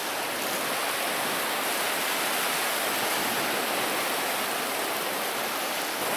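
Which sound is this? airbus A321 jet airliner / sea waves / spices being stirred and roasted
sea waves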